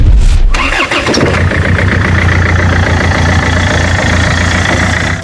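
A battle-damaged military vehicle's engine cranks briefly and catches near the start, then settles into a loud, steady low idle that runs to the end, with no talking.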